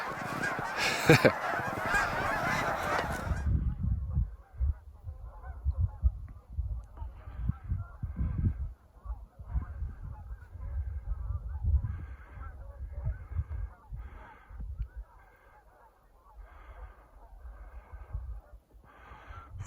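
Geese along a river shoreline honking repeatedly at a distance, a series of scattered calls following a burst of loud wind-like noise at the start.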